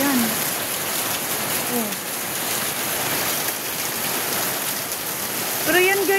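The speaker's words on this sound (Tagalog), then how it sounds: "ang lalaki talaga ng ng ulan, oh. Parang hail siya." Heavy rain with large, hail-like drops pours steadily in a dense hiss amid wind, while a voice speaks briefly and faint bird-like chirps come through.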